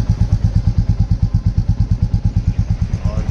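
Royal Enfield Classic 350 Reborn motorcycle idling with an aftermarket short exhaust, a deep, low, steady thumping beat at close range.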